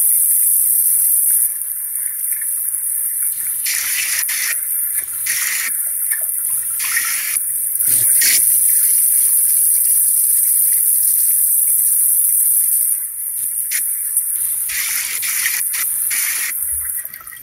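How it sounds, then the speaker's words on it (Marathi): Running tap water gushes and splashes as rice is rinsed for prawn biryani, loud and continuous with pulsing surges and brief changes as the grains are stirred in the flow. "पहिले पाण्याखाली 2दा हा तांदूळ छानपैकी मस्तपैकी वॉश करून घ्यायचा आहे"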